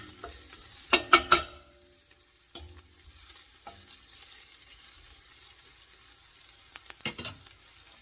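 Garlic cooking in a pot of homemade beef and barley soup makes a quiet, steady sizzle, broken by a quick cluster of spoon scrapes near the start and a few more stirring knocks near the end.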